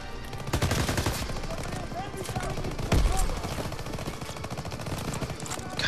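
Bursts of gunfire from the World War II shooter Call of Duty: WWII fill the clip, with repeated shots and a louder blast near the middle over dense battle noise.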